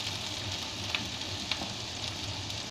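Green peppers and onions sauté in a hot pan with a steady, close hiss of sizzling oil, punctuated by a couple of soft clicks from stirring.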